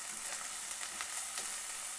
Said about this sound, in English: So I have added 1 teaspoon of ginger garlic paste.